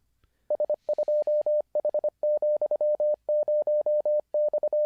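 Rapid, evenly pitched beeping tones in short and long bursts, keyed in quick succession like Morse code, loud and clear with no voices.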